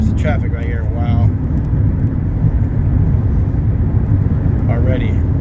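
Road traffic heard from inside a moving car, a continuous low rumble of engine and road noise, with voices speaking over it at the start and end.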